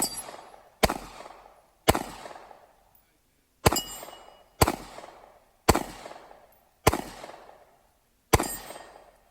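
Seven sharp pistol shots ring out at an outdoor two-gun shooting match stage, spaced roughly a second apart with one longer pause, each a loud crack with a short decaying echo.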